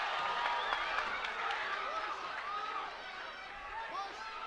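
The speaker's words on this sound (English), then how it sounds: "And the crowd getting invested." Crowd noise at an amateur MMA bout at Rockland GAA, with a steady roar of voices and shouts rising and falling as spectators get invested late in the fight.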